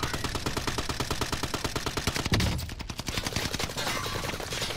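Rapid automatic gunfire rattles in a video game firefight, a steady fast stream of close shots with a brief heavier thump midway, loud throughout with no talk.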